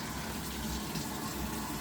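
Samsung top-loading washing machine under repair filling with water, a steady, even rush of incoming water with a faint vibrating hum from the inlet valves, continuous throughout with no voices.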